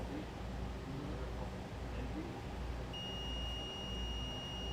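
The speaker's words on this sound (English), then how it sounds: "You can hear that beep." A thin, steady electronic multimeter continuity beep, tested across an RV air conditioner compressor wire, starts partway through and holds continuously over a noisy, rumbling background.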